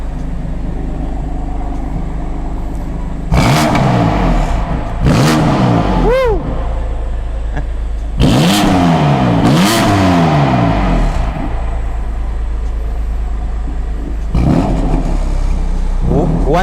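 A BMW M2 CS Racing race car's engine is revved hard through its exhaust in several loud, rising bursts, with a rough idle rumbling between them and a few seconds of idle before the final rev.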